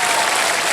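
Steady applause from a studio audience on the Kaun Banega Crorepati game show, a dense, even wash of clapping filling the whole short moment without any voices.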